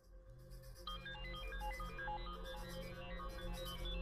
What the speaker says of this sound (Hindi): किसकी बज रही है आपकी जेब से आवाज आ रही है